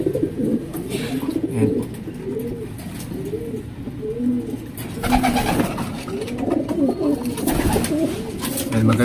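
A breeder pigeon gives repeated rhythmic coos close by, several throaty rolling phrases in steady succession, with a brief spoken word over them.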